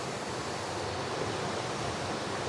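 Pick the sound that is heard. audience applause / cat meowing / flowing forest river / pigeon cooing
flowing forest river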